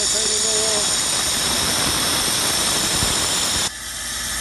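Compressed air hisses steadily into the penetrating-oiled holes of a VW VR6 engine block, a loud continuous blast that cuts off abruptly near the end, leaving a quieter hiss.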